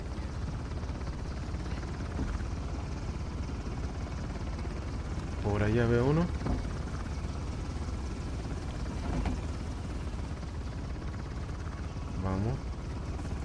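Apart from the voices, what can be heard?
helicopter flying in the video game Uncharted: The Lost Legacy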